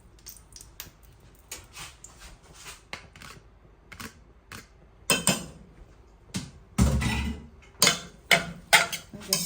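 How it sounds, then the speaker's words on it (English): Spaghetti stirred in a pot with butter, a series of irregular clinks and knocks of utensil against metal, sparse at first and then louder and more frequent. "I'm just going to stir it."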